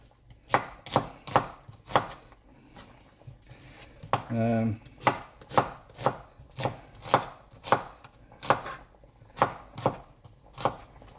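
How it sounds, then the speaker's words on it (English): A knife slices through an onion on a board in steady, close chopping strokes, about a dozen crisp hits at a roughly even pace, with one brief longer rattle or clatter in the middle and no talking. "Lots of different ways you can really dice an onion, but I'm not dicing today. I'm only slicing"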